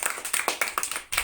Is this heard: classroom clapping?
yes